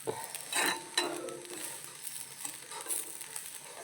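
Curry leaves dropped into hot oil for a Kerala-style roasted-coconut chicken curry crackle and sizzle in bursts, with a sharp spit at the start and lighter popping and stirring scrapes that follow, close and fairly quiet.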